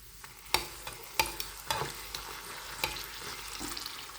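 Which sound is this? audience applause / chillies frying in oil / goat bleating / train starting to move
chillies frying in oil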